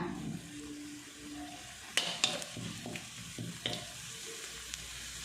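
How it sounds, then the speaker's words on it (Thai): Thai curry paste stir-fried in a pan for mackerel chu chee, with a soft low sizzle under sharp, irregular clinks and scrapes of a spatula against the pan. "ผัดน้ำพริกแกงให้หอมค่ะ"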